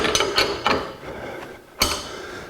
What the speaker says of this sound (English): I'm having to exert a lot of effort to pull it off